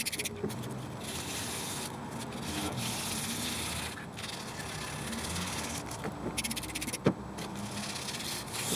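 Oxidized plastic brake light lens sanded by hand in a circular motion, a continuous close scratchy rasp with gentle swells as the strokes circle, steady and moderately loud.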